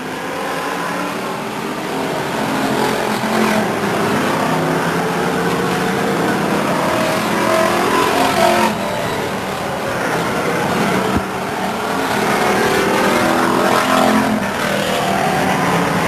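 Race cars lapping the Stockton 99 Speedway oval during a 1999 race, a loud continuous engine roar with cars swelling and fading as they pass, overlapping drones and no voices.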